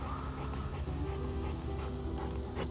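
A young duck retriever whimpers and yips faintly over steady outdoor background noise, with short soft whines scattered through the moment.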